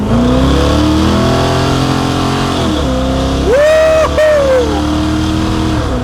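An old American truck engine rumbles loudly up close, its pitch climbing and falling through gear changes, with a sharp rev surge in the middle before it settles back to a steady drone.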